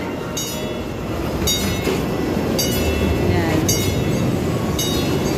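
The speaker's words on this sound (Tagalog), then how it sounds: "Ayan ang train. muntik pa kumawa ng train, guys." Roller coaster train at Galaxyland amusement park rumbling along the track with rhythmic clacking bursts about once a second, loud and close under indoor ambience.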